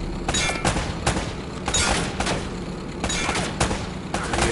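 Sustained gunfire in the Uncharted video game, a dense run of rapid shots with metallic clangs throughout, loud and continuous with no talk over it.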